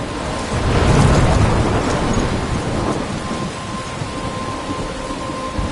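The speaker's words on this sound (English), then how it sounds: "I'm trapped in a storm?" A thunderstorm in the video game Life is Strange: steady heavy rain hisses loudly throughout, with a deep rumble of thunder swelling early and slowly fading under the downpour.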